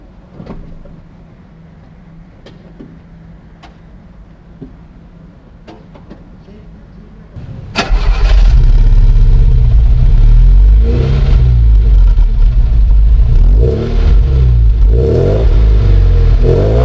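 A vintage car at a classic car show cranks and fires up about halfway through, then idles loud and close with rough throbbing revs rising and falling, after a quiet stretch of faint clicks and handling noises.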